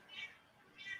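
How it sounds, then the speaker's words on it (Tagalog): A cat meows twice, the calls about a second apart and fairly close, with light speech under it. The meow is also used as a phone ringtone. "Gusto ata sumagot nung cat"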